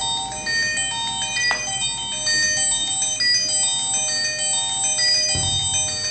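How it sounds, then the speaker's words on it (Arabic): A pen-shaped mobile phone plays a ringtone, a bright, tinkling electronic melody of bell-like tones that runs on continuously and stays clear in the foreground. "صوت الرنات واضح جدا ومسموع قوي"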